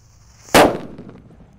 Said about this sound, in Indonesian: di sini ada mercon Powerman yang warna hijau